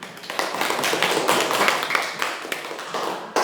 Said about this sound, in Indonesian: mari kita beri tepuk tangan dulu untuk hasil kerja kita hari ini